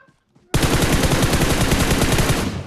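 A loud, close burst of rapid automatic gunfire in PUBG rattles steadily for about two seconds.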